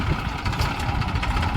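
A tractor engine runs close by on a farm, a steady low, throbbing idle rumble with no talk over it.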